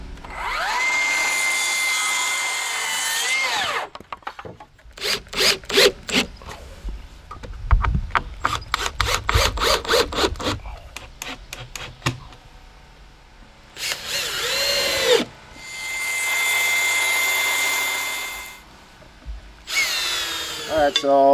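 A power tool drives fasteners through cedar trim to fix a doghouse top to its base, its motor whining in several long bursts broken by rapid clicking ratchet-like runs, loud and close.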